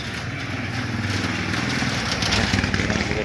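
A motorcycle engine runs steadily and loud near a passenger jeepney route on Road 13, a continuous buzzing drone with slight fluctuations throughout and no pauses.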